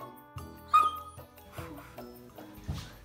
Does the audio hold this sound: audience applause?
no